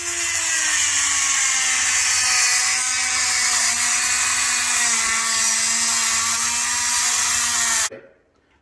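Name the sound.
Dremel diamond cutting bit cutting peel and stick marble tile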